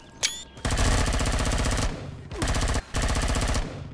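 Sustained minigun bursts from a drone in the space survival game Empyrion, two long loud rattling volleys with brief gaps between them, close and continuous, with no talking.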